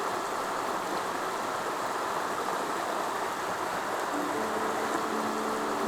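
Water spills into a waterfall pool on a Gila trout stream, a constant broad rushing hiss at moderate distance, even and uninterrupted, with a faint low tone creeping in near the end.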